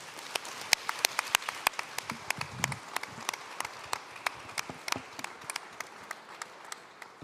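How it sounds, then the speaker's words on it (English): A small conference audience applauds panelists with sparse, sharp individual claps at a modest level, scattered and irregular, over a quiet room. "I want you to join me in a big round of applause for them for being here"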